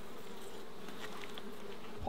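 Honey bees buzz steadily at an open hive during a Mallee bush inspection, a soft continuous drone of many insects close by with no voices.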